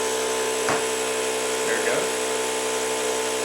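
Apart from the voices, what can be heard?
battery-powered electric air pump inflating bicycle tire through Presta valve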